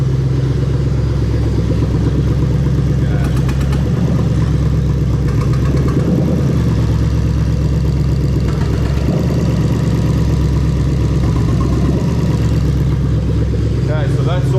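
A Lexus IS200 with a swapped 1UZ-FE VVT-i V8 engine idles steadily with a low, even rumble that holds throughout, close by and fairly loud, all cylinders firing.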